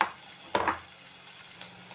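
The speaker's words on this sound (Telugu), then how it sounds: "ఉల్లిపాయలు మెత్తగా అయ్యేంత వరకు, బ్రౌన్ కలర్ వచ్చేంత వరకు వేయించుకోవాలి." Onions fry with mustard seeds in a pan for a capsicum curry: a soft, steady sizzle with a couple of brief louder crackles or stirring scrapes near the start, close by and with no talk.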